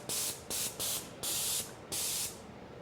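Five bursts of loud, hissing spray from a Graco 490 XT airless paint sprayer, each lasting a fraction of a second to about half a second, separated by short pauses.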